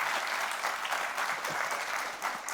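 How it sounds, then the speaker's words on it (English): Applause from an audience at a live event welcoming a Pixar artist, a brief burst of dense, even clapping heard close and continuous. "Can we give a round of applause for him, please?"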